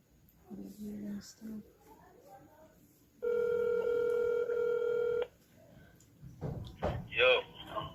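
A telephone ringing during a call, a steady electronic tone lasting about two seconds mid-clip, with talk before and after it.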